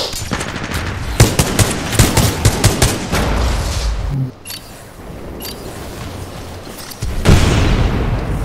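Rapid burst gunfire and a grenade blast from the video game Titanfall 2, a loud cluster of sharp repeated shots followed by a heavy boom, then a quieter lull before another dense roar of firing.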